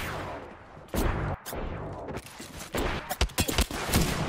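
Bursts of automatic gunfire in the Apex Legends shooter, fired at the player: rapid volleys with short pauses, then a tight cluster of sharp shots, loud and close, with a dense battle din between bursts.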